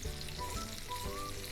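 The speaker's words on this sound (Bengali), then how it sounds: "উল্টে পাল্টে মিনিট 3 মতো মাছগুলোকে আমি ভেজে নেব" Koi fish frying in hot oil gives a steady, even sizzle with a bubbling crackle, fairly soft and uninterrupted.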